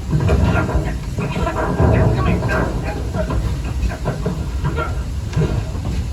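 Walt Disney World Railroad steam train running at the Orlando resort, a steady rumbling roll with hiss and faint clatter, close and continuous under a speaking voice.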